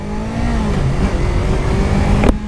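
A Yamaha R25 motorcycle engine accelerates hard with rising, loud revs close by, ending in an abrupt cutoff.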